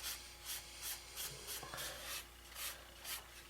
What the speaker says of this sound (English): try to get some of the excess off here and rub it down